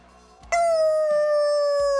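A dog lets out one long, sustained howl, loud and close, after a brief quieter lead-in, with no talking over it.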